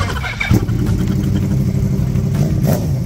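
A Yamaha R1 sport motorcycle engine running very loud up close, a dense rough idle growl with brief revs, steady throughout.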